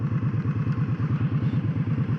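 Indian Scout motorcycle engine idling close by, a steady low, rhythmic thumping pulse with regular beats and an even rumble, no voices over it.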